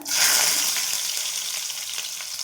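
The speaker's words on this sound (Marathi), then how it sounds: "आणि कांदा पण छान आपल्याला परतून घ्यायचा आहे" Sliced onion goes into hot oil with a mustard seed and cumin tempering for a Maharashtrian mung dal amti, bursting into a loud sizzle that settles into steady frying.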